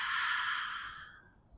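A slow, breathy exhale through the mouth during a yoga flow, a soft airy rush that starts full and fades gradually over about a second and a half, alone with no talk.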